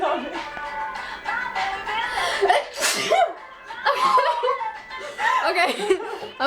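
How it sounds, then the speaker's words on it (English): A drunk young woman sneezes over and over, each sharp burst running into giggles and laughter, with chatter from others close by. "I'm gonna sneeze again"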